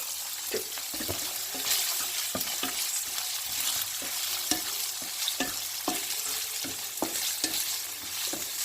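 Calf's liver fries hard on a high flame, a steady loud sizzle broken by sharp clacks of stirring and scraping in the pan throughout, with no talk.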